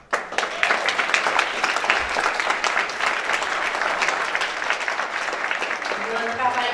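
A crowd breaks into loud, steady applause, many hands clapping densely and continuously, with a voice faintly audible near the end.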